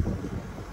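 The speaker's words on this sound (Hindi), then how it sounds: "बहुत ठंडी हवा चल रही है भाई इधर" Cold wind blows across an open farm field during a mustard crop harvest, a loud steady low rumble of buffeting gusts against the microphone with no pause throughout.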